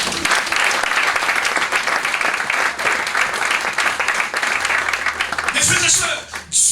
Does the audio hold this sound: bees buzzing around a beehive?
no